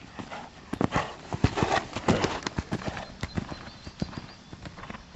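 A horse gallops during a riding lesson, its hooves beating in a quick, rhythmic clatter close by and continuing throughout, with faint background sound.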